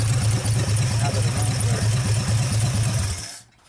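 A 1948 Nash car engine runs loud and close with a fast, even exhaust pulse before cutting off abruptly near the end.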